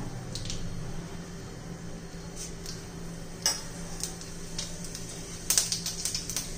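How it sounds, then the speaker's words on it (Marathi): Cumin and mustard seeds spluttering in hot oil for a raw banana curry, heard as scattered sharp pops and crackles over a faint background hiss, bunching into a quick burst near the end. "बघा, जिरी मोहरी तडतडली आहे"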